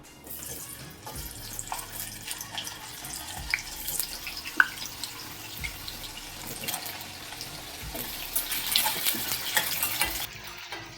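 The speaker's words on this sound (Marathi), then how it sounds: "मध्यम गॅसवर आपण तळून घ्यायचं सगळं" Small peeled potatoes fry in oil over a medium gas flame for an Undhiyu dish, giving a steady low sizzle with light stirring and occasional clinks. It stays fairly even, with faint water-like crackle, and no one speaks.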